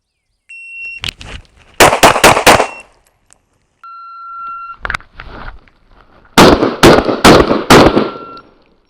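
Live-fire pistol shots at a shooting range, loud sharp cracks in two quick strings of about four to five shots each, with a short electronic timer beep before each string.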